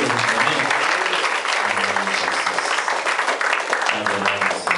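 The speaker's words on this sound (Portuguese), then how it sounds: "Aplaudindo o Senhor." A church congregation at a men's congress claps continuously in praise, a loud, sustained burst of applause with voices and low sung or spoken tones mixed underneath.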